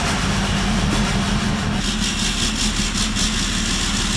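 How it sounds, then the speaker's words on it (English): A rebuilt Range Rover engine turns over and runs for the first time, a steady, loud mechanical drone with a low hum and a faint rhythmic pulsing, heard close and alone. "I attempted to crank it for the very first time."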